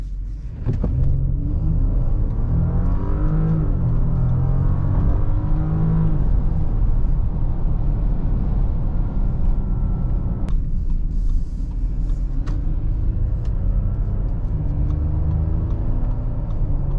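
Steady low rumble of a 2022 Audi Q8 55 TFSI e hybrid SUV driving on the road, heard from inside the cabin with smooth engine and tire drone throughout, no talk.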